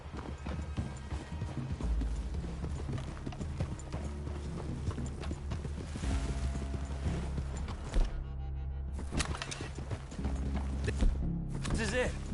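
Rhythmic horse hoofbeats in the video game Red Dead clip-clop steadily at a walking pace, with occasional snorts and rustling, nearby and moderately loud.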